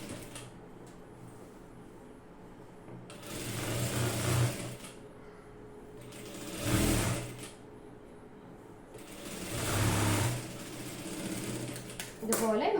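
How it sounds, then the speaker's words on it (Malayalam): A sewing machine stitches a folded saree hem in three separate swelling runs of whirring, with softer handling sounds and pauses between them. "ചീത്ത വശത്തേക്ക് തന്നെ മടക്കി കൊടുക്കുക. ഞാൻ ആദ്യം ഒരു 1/4 ഇഞ്ച് മടക്കുവാണ്. എന്നിട്ട് വീണ്ടും ഒരു 1/4 ഇഞ്ച് ഇങ്ങനെ മടക്കിയിട്ട് നമുക്ക് സ്റ്റിച്ച് ചെയ്ത് എടുക്കാം"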